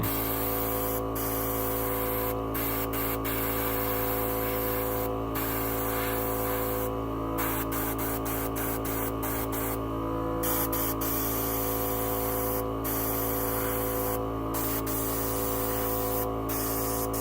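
A dual-action airbrush sprays paint in a continuous hissing stream while preshading a Gundam Exia model kit, with a steady mains hum beneath and several short pauses.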